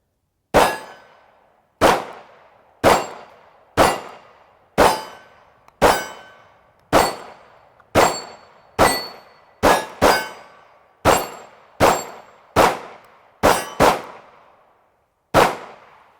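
A Ruger American 9mm pistol fired shot after shot across two magazines, with sharp, loud reports at a steady, slightly irregular pace, each shot ringing out briefly before the next.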